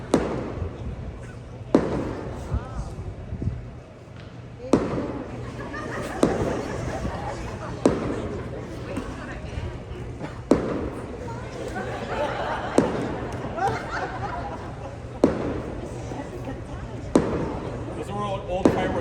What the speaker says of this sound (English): Those are what old fireworks sound like.